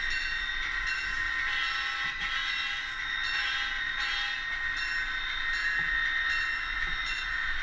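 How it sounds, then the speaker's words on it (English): A model SD40 locomotive slows down on a layout track, giving a steady, faint electric motor hum with a bright whine and light clattering of wheels, running on without pause. "And this is the final leg of this run. And we're slowing this SD40 down."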